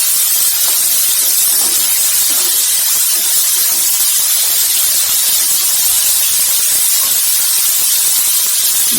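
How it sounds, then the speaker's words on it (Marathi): Bitter gourd sautés in a hot pan, giving a continuous loud sizzle and hiss with crackling spatter that runs steadily throughout, with no talk. "हे कारले ना आधी थोडंसं परतून घ्यायचे चांगलं."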